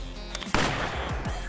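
A single sharp gunshot goes off in the video game Fights in Tight Spaces, a sudden loud crack followed by a brief decaying tail.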